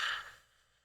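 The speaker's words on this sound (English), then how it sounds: "I like to start out our creative sessions with a deep breath" A single deep breath out, a soft close breathy exhale that starts fullest and fades away within a second.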